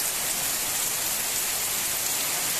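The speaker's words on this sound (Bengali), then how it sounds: "আর নেমেছে এমন জোরে বৃষ্টিটা, পুরো একদম চারিদিকে ধোয়া ধোয়া লাগছে, খুব জোরে বৃষ্টি হচ্ছে, খুব জোরে।" Heavy rain pours down outdoors in a dense, steady hiss that fills the whole scene with no letup and no voices.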